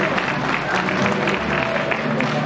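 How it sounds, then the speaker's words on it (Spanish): Audience applause at the close of a school nativity play, a steady dense wash of clapping hands filling the room throughout, fairly loud and close. "Un fuerte aplauso para ellos."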